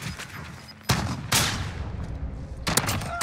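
Shotgun blasts ring out in a 1v1 Call of Duty match. There are three sharp, loud bursts spread over a few seconds against a continuous rumble of game noise.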